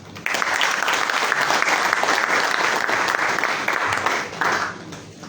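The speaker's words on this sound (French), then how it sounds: "nous nous adressions collectivement des applaudissements pour cette belle réussite" Collective applause at a joint steering committee meeting on health and social protection, a steady roomful of clapping sustained for about five seconds, fairly loud and dense, with no speech over it.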